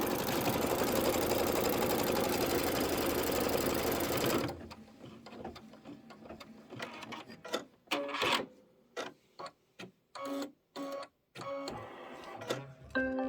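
An embroidery machine stitches quilting on a Kimberbell Halloween pillow: a loud, dense, steady mechanical whir for several seconds, then a run of short bursts and clicks separated by quiet gaps.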